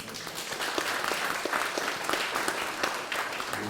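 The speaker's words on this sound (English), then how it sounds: "Thank you for that applause." Steady applause from an audience at a community forum, a continuous dense wash of many hands clapping at moderate loudness with no talk over it.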